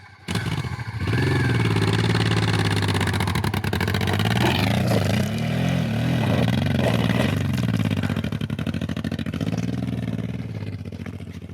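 A Honda CRF off-road motorcycle revs hard on a rough trail, its engine note climbing and falling in sustained loud surges for nearly the whole stretch, with rattling clatter mixed in.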